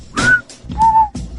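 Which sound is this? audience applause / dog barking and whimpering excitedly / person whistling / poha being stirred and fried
person whistling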